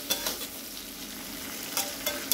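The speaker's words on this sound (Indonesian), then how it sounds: "Sardennya tadi kita aduk pelan-pelan supaya bumbunya merata." Sardines with spices stirred slowly in a pan, giving a soft, steady frying hiss broken by a few light scraping clicks of the utensil, close and fairly quiet with no talking.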